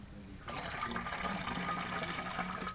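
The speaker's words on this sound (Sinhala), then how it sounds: "මේ විදිහට ජලය එකතු කරගෙන" About half a litre of water is poured into a container for a homemade neem oil and soap garden spray, making a steady, close rushing pour that carries on evenly.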